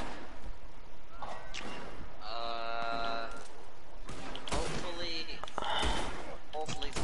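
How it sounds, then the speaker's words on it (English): Gunfire in the video game Pinkerton, sharp thuds and bangs scattered across the scene amid other game effects, with people talking over it. "there's a lot of gunfire"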